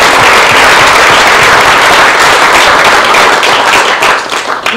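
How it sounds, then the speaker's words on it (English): A lecture audience gives loud, close, sustained applause with sharp individual claps, tapering off slightly at the very end, with no talking over it. "round of applause"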